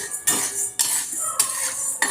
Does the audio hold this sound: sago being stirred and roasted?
yes